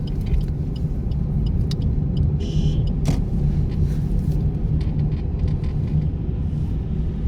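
A car turns and accelerates during a driving lesson, its steady engine rumble and road noise continuous throughout, with a brief hiss and a sharp click partway through.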